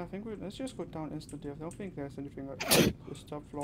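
A single sharp sneeze bursts out near the close, loud and broadband, set against steady conversation by several people exploring the Backrooms.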